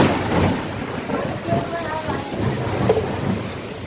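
Kalbaisakhi thunderstorm with heavy rain, a dense, continuous roar of downpour and low rumbling that stays loud throughout, with a voice talking over it.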